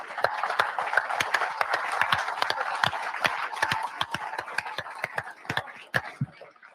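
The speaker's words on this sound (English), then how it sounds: "If you could please rise, we'd love to give you a round of applause." An audience at a racing drivers' meeting claps steadily for military veterans who stand, a dense, sustained round of applause with sharp individual claps close by.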